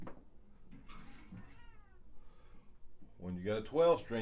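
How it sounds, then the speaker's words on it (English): Cats yowling and fighting just outside a door, a loud burst of harsh, wavering cries near the end, with someone talking over the earlier part. "if you hear the cats fighting outside the door, that's all it is."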